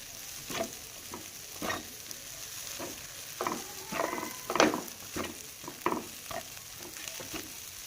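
Moong dal halwa roasts slowly over a low flame with a soft frying hiss and irregular scraping stirring strokes. The sound is fairly faint and close, with no speech.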